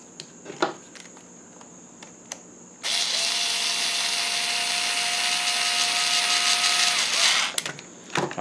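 A power drill drives a screw while shocks are being fitted on a Big Rock ARRCat, a single close, steady whirring burst lasting about four seconds between quieter handling clicks.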